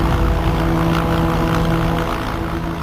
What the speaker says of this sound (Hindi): देहरादून के जौली ग्रांट एयरबेस से केदार घाटी के लिए हेलीकॉप्टर की उड़ान जारी है।